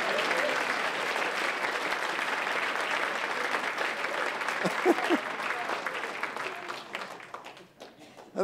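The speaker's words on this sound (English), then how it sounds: "Round of applause for Margaret." Applause from an audience at an evening entertainment event, a steady broad clatter of many hands that thins and fades out near the end.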